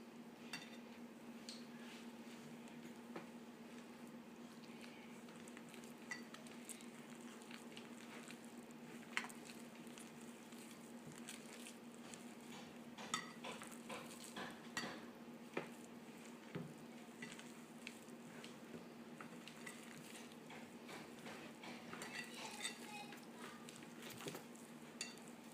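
Eggs being mixed into pastry dough in a bowl, soft wet squishing and stirring with scattered light clicks against the bowl, quiet and continuous over a faint steady hum.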